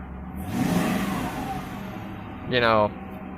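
Engine of a Ford Crown Victoria police car that has sat unused for months and runs rough, a steady nearby drone that swells into a brief louder rev near the end.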